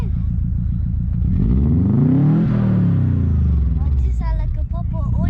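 A loud, close engine rumbles and revs, its pitch rising and falling in a sweep, with a voice chiming in near the end.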